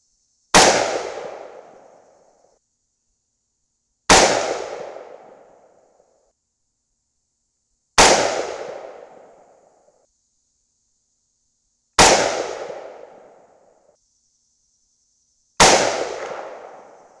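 Five 6.5 Grendel rifle shots fired through a Krinkov-style muzzle brake, each a sharp loud crack with a decaying outdoor echo, spaced about four seconds apart.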